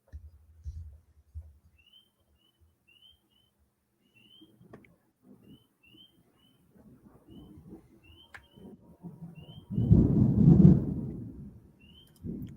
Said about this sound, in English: that thunder?